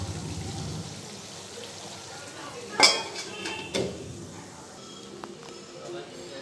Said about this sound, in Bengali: তো রান্না বসিয়েছি, এদিকে ভাত আর এদিকে মাংস করছি।